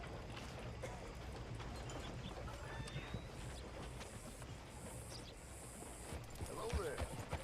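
Several horses come trotting up after being called in Red Dead Redemption 2, with clip-clop hoofbeats over a steady outdoor game ambience and the occasional faint whinny.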